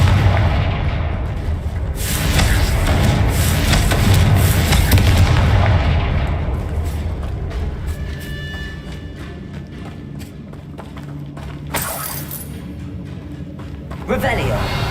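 Confringo fire spell blasts in the Hogwarts Legacy video game, a series of loud booming explosions and crackling bursts with rumbling low end, dense at first and then sparser, with a few sharp later hits.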